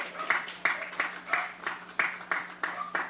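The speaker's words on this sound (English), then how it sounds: "Give yourselves a round of applause" Audience applause at a fitness studio's grand opening, with loose, rhythmic clapping from a small group, fairly close and moderate in level.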